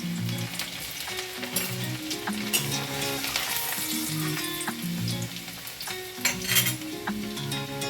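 Chopped garlic frying in hot oil in a wok for a potato pasta dish, a steady close sizzle with occasional scrapes and clinks of a utensil against the pan, no voices.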